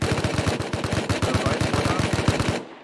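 Rapid automatic gunfire in the video game Rust, a loud, close burst of evenly spaced shots lasting nearly three seconds before cutting off abruptly.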